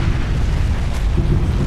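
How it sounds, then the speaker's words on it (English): A huge nuclear explosion in a Far Cry 3 Blood Dragon cutscene rolls out as a dense, deep roaring rumble, loud and sustained across the whole moment. "Big nuclear explosion."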